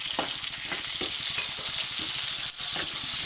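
Onion and garlic fry in rendered pork fat in a pan, a loud, continuous hissing sizzle with soft stirring knocks beneath it, heard close and without speech.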